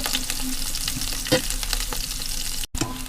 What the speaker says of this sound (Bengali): এখন কাঁচামরিচ আর পেঁয়াজও দিয়ে দিচ্ছি। একটু ভেজে নিব।